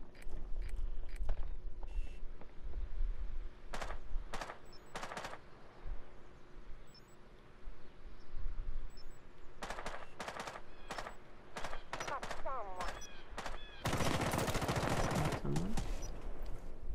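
Gunfire in Rainbow Six Siege, sharp isolated shots scattered across the stretch, some in quick pairs and short bursts, with a louder clattering flurry near the end over low background rumble.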